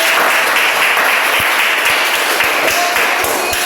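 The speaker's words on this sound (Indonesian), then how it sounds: "Tepuk tangan untuk kita semua" Classroom applause from middle school students after their presentations, a loud continuous patter of many hands clapping in a room, with a few sharper individual claps standing out.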